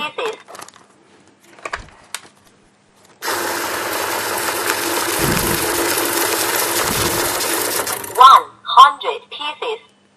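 A bill counting machine riffles through a bundle of banknotes with a continuous, even whirring buzz lasting about five seconds. Brief bits of talk come just before it starts and right after it stops.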